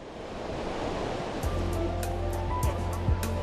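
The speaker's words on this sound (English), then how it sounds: "The surf sprays fine droplets of mineral-rich seawater, and the wind just blows your cares away." Ocean surf washes in as a steady, broadband roar of breaking waves on an island shore, mixed with wind, with a low rumble building after the first second.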